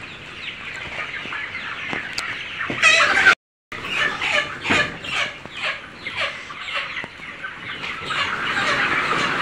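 Broiler chickens, 44 days old, on a farm: dense, close clucking and squawking from many birds, continuous with one brief dropout, no talking.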